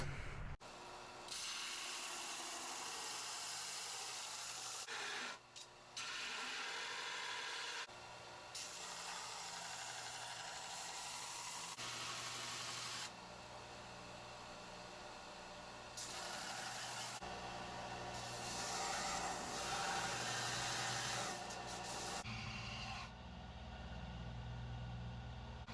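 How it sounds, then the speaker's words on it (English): Belt sander with a 60 grit belt grinding a forged Damascus fish filet knife, a continuous loud abrasive whine that rises and drops in pitch as the blade is pressed on and lifted, with no speech. "So we have a 60 grit belt, and we're gonna just start sanding."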